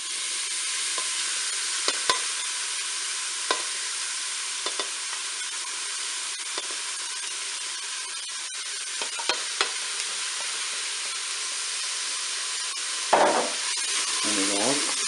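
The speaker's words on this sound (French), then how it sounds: "mon huile est chaude, je vais faire revenir mes oignons" Onions sizzle steadily in hot oil in a Cookeo multicooker, a dense, even frying hiss that runs throughout, with occasional light clicks of stirring and a louder clatter near the end.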